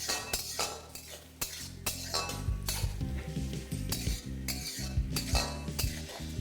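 Sliced onions fry in a pan, sizzling steadily under repeated close metal clinks and scrapes of a spoon stirring them.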